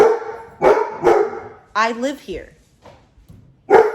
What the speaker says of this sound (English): Somebody come get this dog. I don't know what he's barking about.